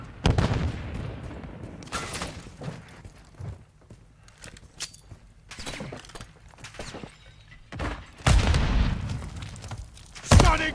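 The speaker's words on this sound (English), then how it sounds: "Stun grenade out!" Call of Duty: Modern Warfare III match with a stun grenade going off amid gunfire, sharp bursts and bangs scattered among quieter gaps.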